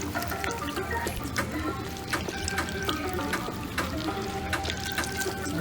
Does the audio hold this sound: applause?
no